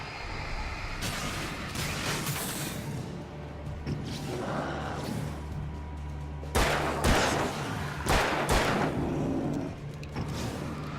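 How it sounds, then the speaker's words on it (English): A flashbang grenade goes off in the Alan Wake video game, with several sharp blasts ringing over a dense, continuous game soundscape of rumbling and crackling. "Killed 4 taken with a single flashbang"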